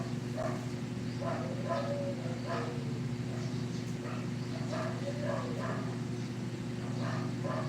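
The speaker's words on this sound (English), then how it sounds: "I hear some dogs barking." Dogs bark and yip repeatedly at a distance somewhere in the Philippines, in short bursts over a steady low hum, with a voice talking faintly now and then.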